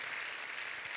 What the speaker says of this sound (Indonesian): kita kasih tepuk tangan sekali lagi buat Tuhan kita yang luar biasa